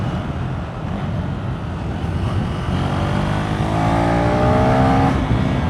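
Steady, loud engine drone of a KTM 390 SMC-R motorcycle on a test ride, rising in pitch as it accelerates, heard from the rider's position with wind rush and no talking.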